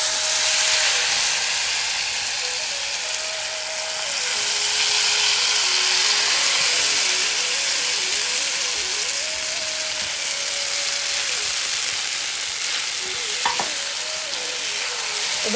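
Potato batter poured into hot oil with cumin sizzles loudly and steadily throughout, a dense continuous frying hiss with faint tonal hum and a brief clink near the end.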